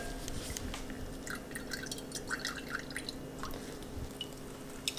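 Homemade coconut milk drips and trickles through a strainer into a container, soft irregular splashes close by with no talking.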